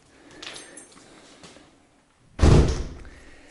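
A door at a rented holiday house on an island in the Azores swings open with a loud thud and rattle midway through, after quieter handling noises, with no talking.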